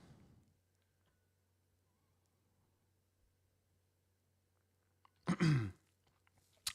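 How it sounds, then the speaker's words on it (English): A man clears his throat once near a microphone with a short, gruff rasp, following a long stretch of near silence with a faint click at the end. "Sorry, I keep clearing my throat"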